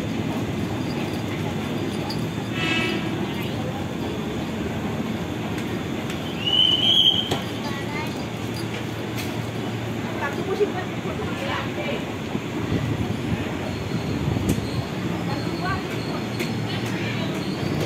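A commuter train bound for Bekasi rumbles through Tanah Abang station in Jakarta with a steady rolling clatter and a brief high wheel squeal, while voices speak in the background.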